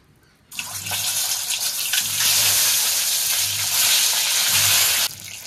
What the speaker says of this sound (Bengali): তেল বসিয়ে দিয়েছি কড়ায়, তেলও গরম হয়ে গেছে। ডিমগুলোকে আগে ভেজে নেব।